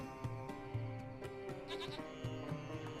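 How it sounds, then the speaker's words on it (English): A small goat hiding under a hut in the video game Lost Horizon bleats in short repeated cries over a steady music bed, faint and a little distant. "It's a small goat."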